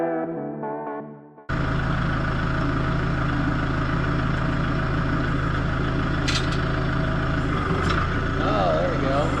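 A Kubota tractor engine starts after a few seconds of faint mechanical sound, then runs with a steady, loud, low rumbling idle that continues to the end.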